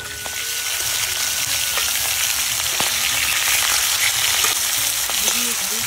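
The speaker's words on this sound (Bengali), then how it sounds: "তেল গরম হয়ে গেছে, এখন মাছগুলো ভেজে নেব।" Fish frying in hot oil, a steady dense sizzle with scattered pops and crackles, close and loud throughout with no talking.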